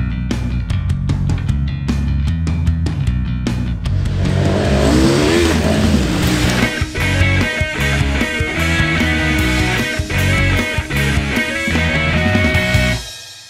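KTM 1290 Super Adventure R 2021 motorcycle with a V2 engine under way, a loud, throbbing engine that revs and pulls through rising and falling gears, with sharp transient knocks, all close and continuous.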